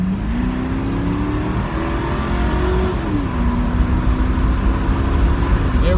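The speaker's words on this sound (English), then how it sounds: "I'll do a little acceleration." A 1995 Ford Mustang GT convertible accelerates on a highway, its engine drone climbing steadily in pitch with a brief dip at a gear change, loud and continuous under road and wind noise.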